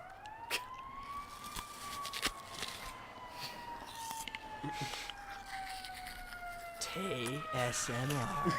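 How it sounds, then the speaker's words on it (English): A police siren wails outside, a long rising and falling tone heard from a distance, with faint voices and room noise around it during a gaming stream. "We have a nice little siren going on in the background"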